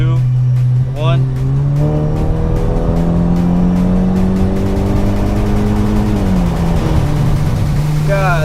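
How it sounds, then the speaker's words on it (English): Kia car engine pulling hard in third gear after a downshift, a loud sustained rising drone that climbs steadily then drops at the shift, close up with people's voices over it. "Hit that downshift. Third gear pull."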